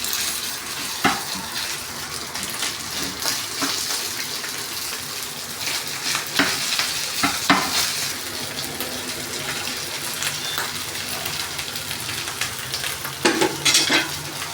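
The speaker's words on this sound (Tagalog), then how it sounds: "Halo-haluin lang natin hanggang sa medyo mamulan na siya at medyo matoast." Leftover rice stir-fried in a pan for chow fan, loud continuous sizzling with repeated scraping and stirring clatters of a utensil against the pan, close up.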